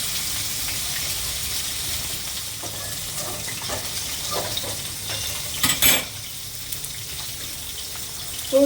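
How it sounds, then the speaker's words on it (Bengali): Katla fish lightly frying in a pan gives a continuous close sizzle, with a few scraping turns and clinks of a utensil against the pan near the middle and end. "মাছটা ভাজবো ফার্স্ট হালকা ফ্রাই করবো একদম বেশি নয়"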